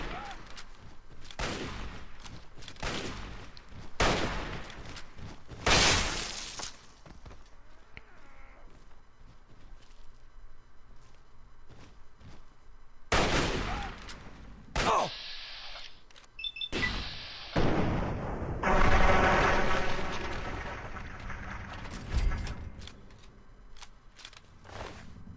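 Gunfire from Fallout 3 during the Reilly's Rangers hospital climb: loud, irregular bursts of shots and volleys, some long and some short, separated by quieter stretches of battle ambience.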